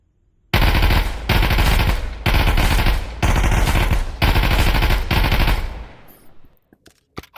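Automatic rifle fire in a video game, loud and close, in four or five sustained bursts with brief gaps, then fading into scattered shots and quiet.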